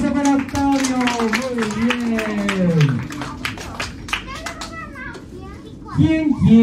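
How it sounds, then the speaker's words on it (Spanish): Children clap at a seventh birthday party with a magic entertainer, quick scattered claps mixed with excited squeals and kids' voices, lively and close. "un aplauso para Octavio"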